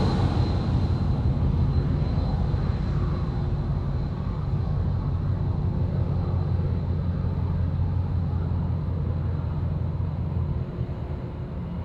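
An airliner takes off at Sydney Airport with a steady, broad engine roar heard from a distance, holding level for several seconds before easing slightly near the end.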